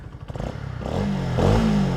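Motorcycle engine starting with the ignition, then idling steadily at close range, a low rumbling drone that swells slightly toward the end.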